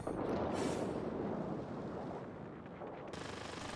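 Aircraft guns on an F-82E Twin Mustang fire in the World of Warplanes combat game, a dense rattling burst over engine roar that eases off, then a fresh crackle of fire near the end.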